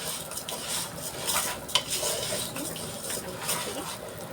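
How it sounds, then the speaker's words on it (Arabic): Water boils in a pot on a home kitchen stove with a steady close bubbling hiss, broken by a few faint clinks of cookware. "هنا الميه غليت معايا اهو في الكتل"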